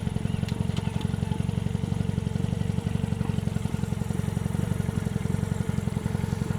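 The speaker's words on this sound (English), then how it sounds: "I do a lot of engine braking. I let the engine slow me down." Motorcycle engine slowing the bike through engine braking and downshifts on a ride to Griffith Park, a steady, loud, close drone that runs unbroken for the whole stretch.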